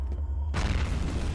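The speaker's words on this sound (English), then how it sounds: "Look out, grenade!" A grenade explodes in the first-person shooter F.E.A.R. Perseus Mandate: a sudden, loud, close boom that drops into a long, rumbling roar, with no voices over it.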